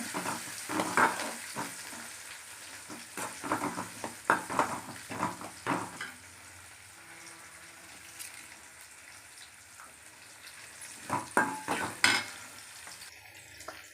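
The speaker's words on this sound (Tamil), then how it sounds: "சின்ன வெங்காயம். நல்லா வதக்கிறோங்க." Small shallots sautéing with mint, coriander and curry leaves for a kudal curry, a steady oily sizzle with repeated scraping stirs of a spoon in the pan, close and continuous, easing off midway before more stirring.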